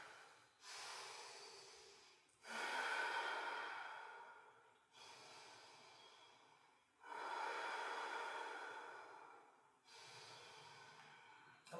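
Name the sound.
breathing during yoga pose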